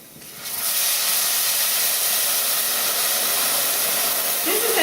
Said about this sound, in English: now the rice has begun to toast a little bit, so it's time to add our wine